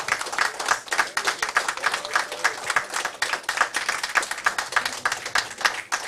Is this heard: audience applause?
yes